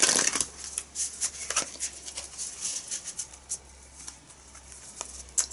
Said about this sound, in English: Just going to give it one more shuffle.